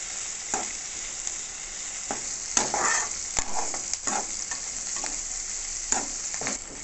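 Onion frying in a pan with an ongoing sizzle broken by repeated scraping stirs and occasional sharp clinks of a utensil, close, with no talk.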